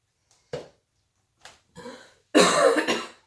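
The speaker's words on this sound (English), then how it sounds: "That's my cough break" A few separate coughs, a short single one followed by a couple of harsher, louder bursts, close up with no talking.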